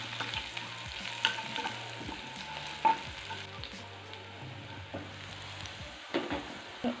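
Garlic tempering with a pinch of turmeric being stirred in a hot pan, steady soft sizzle with scraping spoon strokes and a few louder clinks, close and continuous without talk.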